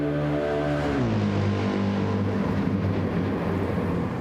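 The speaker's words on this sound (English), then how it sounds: "we got an AMG Mercedes bringing up the rear. Actually sounds the best." AMG Mercedes race car in Gran Turismo 7 during a manufacturer cup race, its engine droning loud and steady with a clear gear-change drop in pitch about one second in, then holding a rough, sustained roar.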